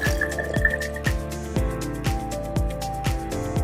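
Hot water pours steadily into a baby bottle, with repeated gurgling pulses roughly every half second, close and fairly quiet.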